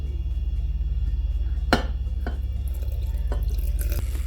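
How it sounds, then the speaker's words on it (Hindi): Water added to a sattu drink in a home kitchen, heard as a few separate drips and splashes over a steady low hum, close and clear with no talking. "अब इसमें पानी मिलाएंगे"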